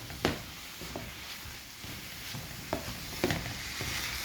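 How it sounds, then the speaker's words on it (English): Minced meat and onions frying in a pan are stirred with a utensil, giving a low sizzle broken by several distinct scraping strokes at an uneven pace, close up and without any talking. "Just make sure you mix in the onions and your meat together to combine properly."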